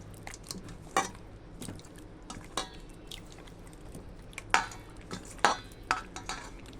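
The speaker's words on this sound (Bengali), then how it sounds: "এবার এটাকে মাখবো সুন্দর করে" Katla fish mixture with cumin and chilli paste being kneaded by hand, soft wet squishes and small clicks in an irregular rhythm, close and fairly quiet.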